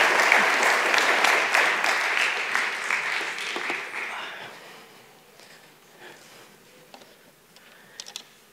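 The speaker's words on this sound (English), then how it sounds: "give her a round of applause." Audience applause in a lecture hall welcoming a science speaker, full and even for about four seconds, then fading to a few scattered claps and light rustling.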